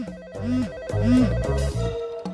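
A mobile phone ringtone plays a short electronic melody, a series of clear synthetic tones rising and falling in quick steps, fairly loud and heard alone.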